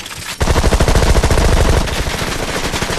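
A Gatling gun on an animated car in Pixar's Cars spins up after a short pause and fires a loud, rapid, continuous rattle of shots for the rest of the moment.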